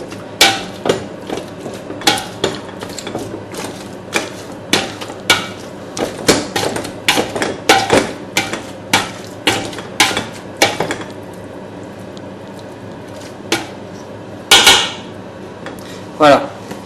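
A potato masher coarsely crushes cooked quinces in a pot, making repeated sharp metallic clanks and knocks in an irregular rhythm, then a few final knocks after a pause.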